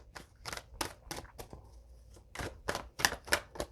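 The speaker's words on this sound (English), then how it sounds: "what I like to do is shuffle really well and pull from the middle" Sharp, papery bursts of cards being shuffled, several quick riffles in a row with brief pauses, close and quiet.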